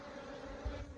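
Honeybees buzz softly around an apiary hive during an evening visit, a low, steady drone with a faint thump near the end.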